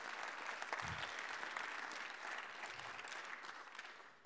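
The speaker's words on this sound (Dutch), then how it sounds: "Mag ik alvast een groot applaus?" Audience at a Tilburg University symposium applauding, a dense, steady wash of clapping from a moderate distance that holds for the full length without speech.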